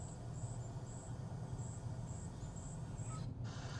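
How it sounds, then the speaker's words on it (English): Forest ambience played through the sound system of a 2023 Kia Stinger GT, with faint repeated chirps over a low, steady in-cabin hum. "You can also listen to some forest noises."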